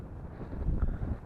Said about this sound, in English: Oh, it's so windy here.